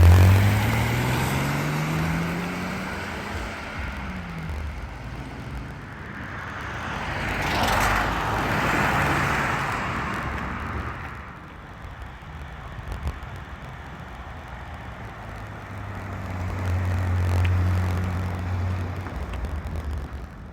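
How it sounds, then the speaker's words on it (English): A 1983 Datsun 280ZX with 9,000 original miles drives past outdoors, its engine swelling to a broad rush around mid-clip and then fading, with a softer low engine hum returning near the end. "I hope everyone else liked seeing the 280ZX go by."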